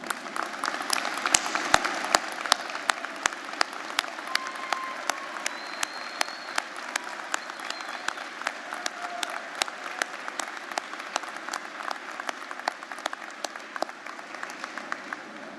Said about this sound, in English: please stand so our graduates and all of us can give you a round of applause.